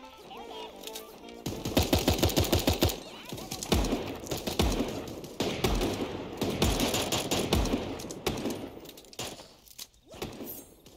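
Rapid bursts of gunfire from the animal battle-royale game Super Animal Royale, with repeated automatic volleys and scattered single shots over several seconds, fairly loud in the mix.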